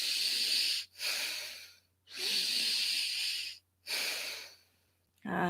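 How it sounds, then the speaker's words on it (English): Slow, deep breaths drawn through the nose down into the belly during a stress-release relaxation exercise, long airy inhales and exhales alternating with short pauses, close and alone. "I'm breathing right down into my belly, all the way down"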